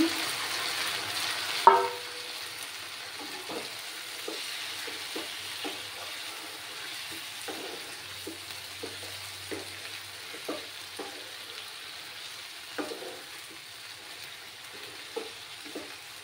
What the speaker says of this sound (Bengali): এবার আমি মাটনগুলো দিয়ে দিচ্ছি।